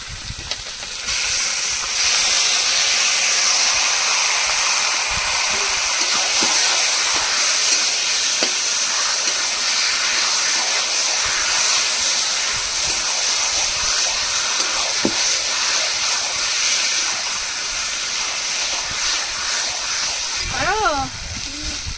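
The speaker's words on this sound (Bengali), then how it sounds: "এবার সিদ্ধ করা কচু শাকটা এর মধ্যে ঢেলে দেবো" Boiled taro greens hiss and sizzle in a pan with a hilsa head, a bright continuous steamy frying noise throughout, with a brief clatter near the end.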